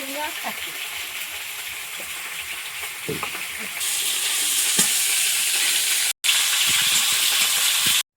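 Pond fish frying in a pan of oil in a rural kitchen fill the clip with a steady loud sizzle and hiss that grows stronger midway, with a brief dropout near the end and faint voices underneath.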